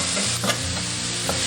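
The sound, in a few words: stir-frying aromatics in hot oil in a wok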